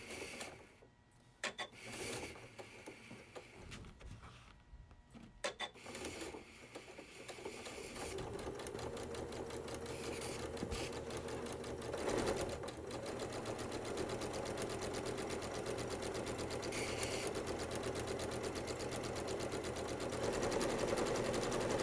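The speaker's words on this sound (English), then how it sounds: "I'll line up my foot, my quarter inch foot, and I'll just sew along here" A sewing machine stitches a quilt block along a penciled line with a quarter-inch foot, a quiet, steady, rapid mechanical whir that starts with a few short bursts, then runs continuously and builds slightly.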